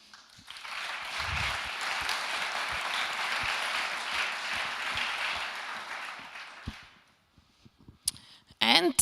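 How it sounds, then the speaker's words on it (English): Audience applause at an innovation program closing ceremony, a broad, steady clapping that swells for about six seconds, then fades out, followed by a few sharp clicks and a brief burst of voice. "I also would like to say a huge applause to them"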